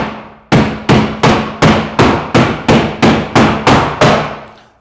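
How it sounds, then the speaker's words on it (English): A claw hammer knocks along the score line of 12mm Hardie Backer cement board. About ten sharp, ringing blows land near the mic in a steady, even rhythm, each fading briefly before the next. "with your claw hammer, initially, you're just trying to increase the cut"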